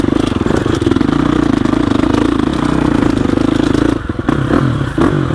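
A Gasgas EX 350F dirt bike engine chugs in a loud, close, rapid pulsing rhythm, then briefly drops and stutters as it shifts into second gear before picking back up.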